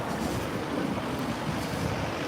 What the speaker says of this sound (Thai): ลมแรงหนาว